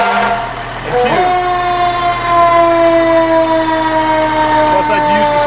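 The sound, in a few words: fire truck siren test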